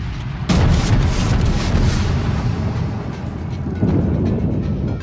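Warship naval guns booming in the World of Warships video game, a loud deep blast near the start followed by rumbling battle din and another heavy thud later.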